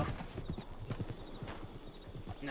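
Horse hooves clip-clop at a steady, rhythmic walking pace in the Red Dead video game, fairly close and moderately loud, with a brief whinny-like sound mixed in.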